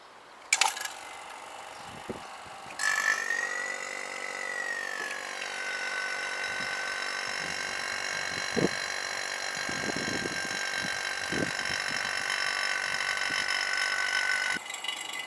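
A vacuum pump connected to a car's air-conditioning system hums steadily at a moderate level, with a brief start at the beginning, a few soft clicks and handling noises in between, and a cutoff near the end.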